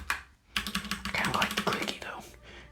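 Rapid, close key clatter from a mechanical keyboard with clicky switches, a dense run of crisp strikes after a brief pause, with quiet speech mixed in.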